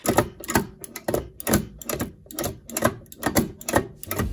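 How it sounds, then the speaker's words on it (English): A sim racing H-pattern shifter clunks repeatedly in and out of gears, its metal shaft smacking a plastic top plate in a quick, steady rhythm of loud, close knocks with no talk. "shifting in and out of gears is quite loud as the metal shaft smacks against a plastic top plate"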